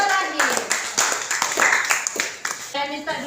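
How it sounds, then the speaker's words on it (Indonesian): Students in a classroom clap for the last group to present, a ragged burst of hand claps mixed with voices talking over it throughout. "Tepuk tangan untuk kelompok terakhir"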